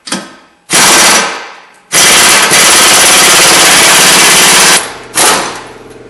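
An impact wrench hammers at a badly rusted axle nut on a front-wheel-drive car, very loud close bursts of rapid rattling, one long sustained run between shorter ones.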